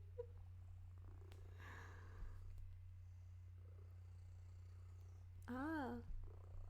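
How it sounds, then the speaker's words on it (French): A pet cat purrs loudly and continuously right against the microphone, a low steady rumble, while someone speaks softly and briefly exclaims near the end. "Elle ronronne tellement fort."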